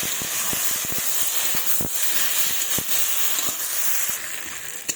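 Masala sautéing in oil for a curry of fish and spiny eggplant, a steady hissing sizzle dotted with small pops and crackles, close and continuous, with no talking.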